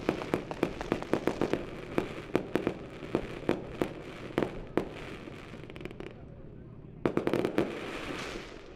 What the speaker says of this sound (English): We're getting old Bill and Bates a fireworks show.